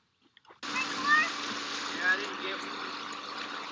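Steady rushing and splashing of water churned by a pool pump circulating freshly chlorinated water outdoors in hot sun, starting abruptly and holding a constant loud wash with a couple of brief surges.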